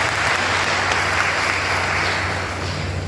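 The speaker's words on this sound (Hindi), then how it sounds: "एक बार फिर से ताली बजाइए।" An audience at an official gathering for district education officers claps together in a dense, even burst of applause, loud and close, holding steady throughout with no talking on top.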